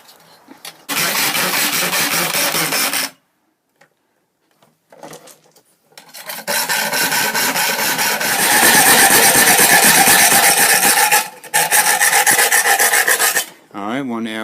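A steel saw blade being cut into a knife blank with a power tool, a loud harsh grinding rasp in long bursts separated by short pauses, close up and with no talking.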